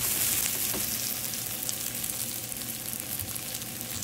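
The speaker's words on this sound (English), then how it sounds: "So after the onion, I'm gonna put in the garlic" Garlic added to onions frying in a hot pan gives a steady, close sizzle that runs unbroken, with no talking over it.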